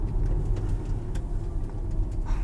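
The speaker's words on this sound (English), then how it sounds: "it has an engine note that's pumped into the cabin" Inside the cabin of a 2022 Jaguar I-Pace EV400 HSE electric car, a low, steady synthetic engine hum fills the space, a continuous rumbling drone with no speech.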